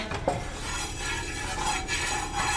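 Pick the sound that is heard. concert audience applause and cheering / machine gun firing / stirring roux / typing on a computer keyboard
stirring roux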